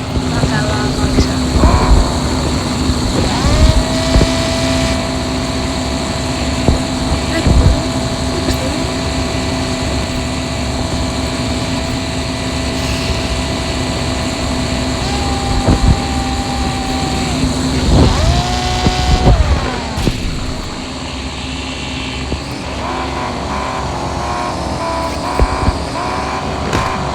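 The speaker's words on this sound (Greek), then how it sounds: "βάζουμε στο αμάξι και πάμε" Car engine sounds from the mobile driving game Car Parking, a steady droning hum with shifting revs and pitch sweeps that runs continuously and loudly throughout, mixed with game audio and music-like tones.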